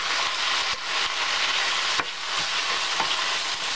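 Beef and bell pepper stir fry, Filipino style, sizzles steadily in a hot pan while being mixed, with scraping stir strokes and clacks from the utensil over continuous frying noise.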